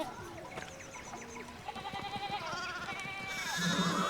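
Sheep in the medieval game Pentiment bleat in a series of short wavering calls, several animals overlapping at moderate distance over a soft rural backdrop, with a louder cluster of bleats near the end.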